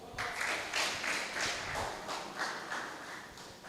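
Audience at a real estate summit clapping in a faint, distant wash with loose rhythmic pulses, a small crowd's applause rising and falling for a few seconds with no talking over it.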